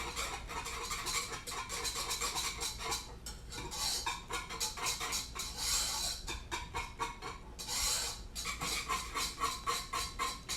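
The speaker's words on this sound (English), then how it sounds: "So we're gonna keep stirring until it thickens." A spoon stirs banana pudding in a pot over a flame while it thickens. It makes a continuous, close, rhythmic scraping and sloshing, with quick repeated strokes and a few louder swirls.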